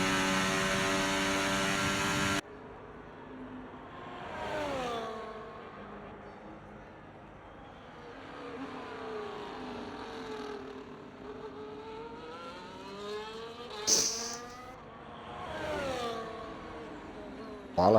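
Onboard engine of a Formula 1 race car in an F1 racing game during a qualifying lap on the Las Vegas track, revving up and down through the gears with rising and falling pitch sweeps, steady and close throughout.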